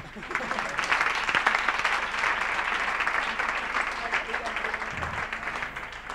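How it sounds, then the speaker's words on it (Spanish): Steady applause from a crowd at the OuiShare Fest Barcelona closing session fills the room for several seconds, a dense patter of clapping with some talk mixed in beneath it. "Y un aplauso para, para Lucía, que está cerrando un taller"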